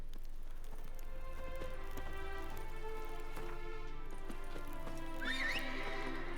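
Roach, a horse in the video game Witcher 3, gallops with a steady run of hoofbeats over soft ground, ending in a sharp whinny, with no voices over it.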